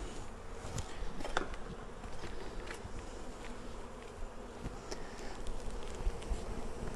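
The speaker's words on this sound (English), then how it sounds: "there's so many bees in this hive" Dense, steady buzzing of many honey bees swarms around an open Flow Hive outdoors, a continuous close drone with no voices.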